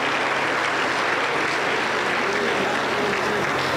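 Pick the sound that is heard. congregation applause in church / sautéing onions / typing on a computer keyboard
congregation applause in church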